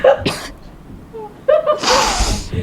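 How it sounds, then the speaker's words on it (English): A few sharp, forceful coughs close by, with a short gap between bursts and a harsher, longer outburst near the end. "I just started coughing."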